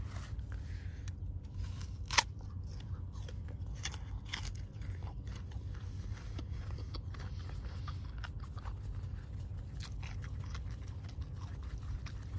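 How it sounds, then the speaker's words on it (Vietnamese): Crunchy fresh guava from a Vietnamese farm chewed close to the mic, a continuous crisp crunching with repeated bites and wet chewing, loud and without speech. "Mình nhai thì các bạn cũng nghe thấy được cái độ giòn của nó như thế nào rồi."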